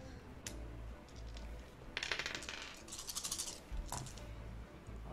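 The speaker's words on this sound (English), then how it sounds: "Dice, y'all. Dice." Several ten-sided dice clattering and tumbling on a tabletop during a role-playing game session, bright rattling clicks in quick bursts, fairly faint and close, with no talk over them.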